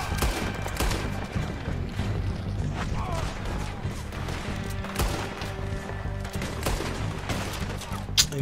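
Repeated gunshots in a Red Dead Redemption 2 shootout play in quick bursts over steady game music and background noise. Reports come at intervals, with a louder crack near the end.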